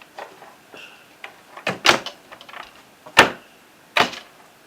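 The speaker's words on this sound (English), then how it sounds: "And the door's opened again on the top." A false cupboard door in a home opens with a series of sharp knocks and rattles, several louder bangs standing out near and clear with no talking.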